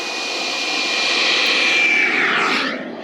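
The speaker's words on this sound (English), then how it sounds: "There's a jet engine inside which runs on aviation turbine fuel which you get from the airport." A model jet turbine engine burning aviation turbine fuel roars at a model airfield, a loud steady whine that swells and then shifts pitch as it passes, with no voices.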